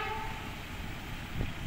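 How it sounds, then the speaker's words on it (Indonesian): Low, steady rumble of a train rolling past at a distance, with a faint horn-like tone early and a brief knock near the end. "Kereta melintas langsung di area ini."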